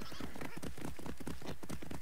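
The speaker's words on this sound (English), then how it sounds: "get back on the horse, and we'll ride back to Superdio" A horse gallops in the video game Assassin's Creed Odyssey, its hoofbeats pounding in a fast, continuous rhythm with no talk over them.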